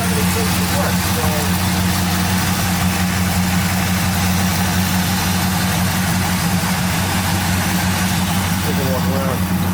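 A 1973 Chevy Camaro split-bumper V8, cold-started after sitting at least ten years, idles with a steady, loud low rumble and constant mechanical chatter, with voices talking over it.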